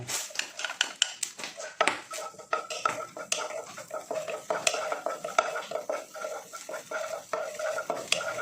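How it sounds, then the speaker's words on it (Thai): Garlic dropped into hot oil for a Thai stir-fried fish with celery, heard as close, busy clattering and scraping of a utensil in the pan over a light sizzle, with irregular sharp clicks throughout. "พอน้ำมันร้อนเราก็จะใส่กระเทียมลงไป"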